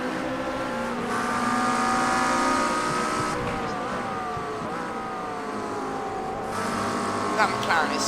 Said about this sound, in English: That McLaren is so loud, holy moly.